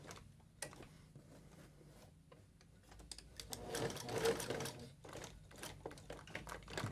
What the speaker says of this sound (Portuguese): primeiro, eu vou, com uma costura reta, prender os olhinhos aqui